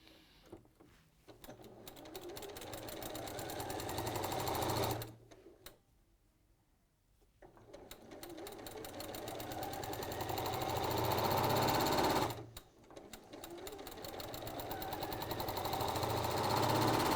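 A domestic sewing machine fitted with a walking foot runs a long seam, a loud rapid mechanical chatter that builds and holds, breaking off twice briefly before resuming at full pace.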